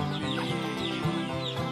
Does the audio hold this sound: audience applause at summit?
no